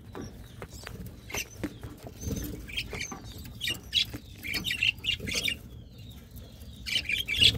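Birds and newly hatched chicks in a breeding colony, with scattered high squawks and chirps plus rustling patter and shuffling, fairly quiet and close, in irregular bursts.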